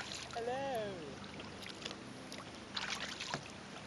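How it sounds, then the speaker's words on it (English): Kayak paddled on water at Indooroopilly, with faint splashes and drips of the paddle over a soft outdoor background, a brief voice-like call near the start and quieter strokes afterward. "Keep paddling me, Lauren."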